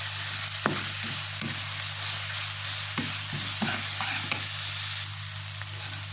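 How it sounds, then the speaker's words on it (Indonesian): Vegetables stir-fried in a pan for sambal jelotot, a steady frying hiss over a low hum, with a series of spatula knocks and scrapes spread across it, close and without speech. "Oseng hingga matang sayurnya, agak matang lah"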